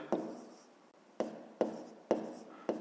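A pen scratches out a fifth-grade math exercise on paper in five quiet, separate strokes, each a short close scrape fading away, with no talking.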